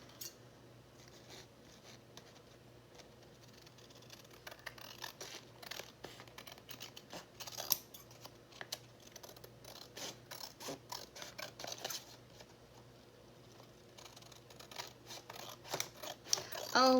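Scissors trimming paper for a handmade summer bloom journal, with soft repeated snips and scratchy paper rustle at close range, fairly quiet and irregular throughout.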